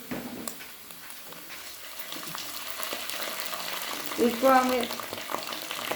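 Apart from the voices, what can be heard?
garlic and ginger frying in pan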